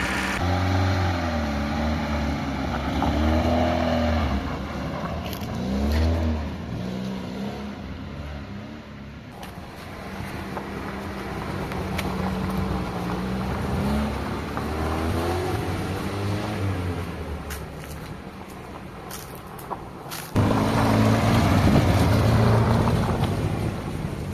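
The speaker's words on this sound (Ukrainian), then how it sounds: "Зараз спробую їхати на цьому автомобілі." A car with a fully rebuilt engine pulls away and drives off, its engine droning steadily with rising and falling revs, mixed with wind noise on the microphone and growing louder near the end.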